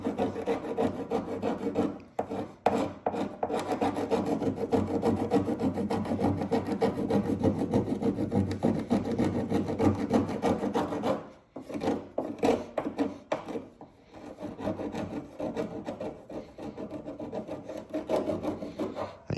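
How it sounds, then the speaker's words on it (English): Adhesive being scraped off the roof of a BMW F30 during a carbon fiber roof swap, with close, continuous rasping strokes and a couple of brief pauses. "I got the glue gun just kind of like soaking in here now, and it's scraping off much better now."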